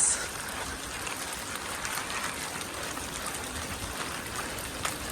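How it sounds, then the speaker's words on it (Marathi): Steady rain pours at Kaneri Math in Kolhapur, a continuous even hiss of drops on surfaces that stays moderately loud throughout with no one speaking. "पाऊस पडतोय"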